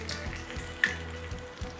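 Fish for fish and chips frying in hot oil, a steady close sizzle with a few sharper pops and bubbling bursts and no talking.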